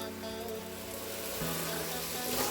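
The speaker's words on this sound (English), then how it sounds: "cook and stir and cook your peppers and onions for about 8 minutes or until they're soft and browned and fully cooked" Sliced peppers and onions sizzle steadily in a hot pan, a dense, continuous crackling hiss at close range with no talking.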